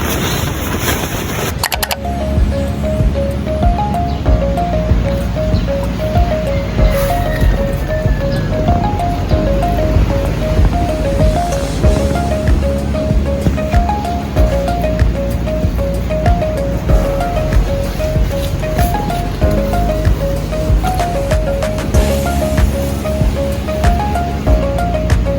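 A storm batters a beach campsite in Dinggalan, Aurora: a loud, unbroken roar of wind and surf fills the air, with a faint repeating beep running through it.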